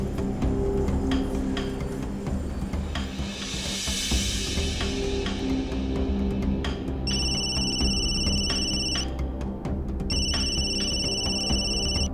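A telephone rings in two bursts of bright electronic trilling over a busy, noisy background, close and clear.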